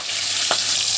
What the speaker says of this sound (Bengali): মাছটা আমি এই যে লবণ হলুদ মেখে রেখেছি, এখন আমি ভাজবো। কড়াইয়ে তেল গরম করতে দিয়েছি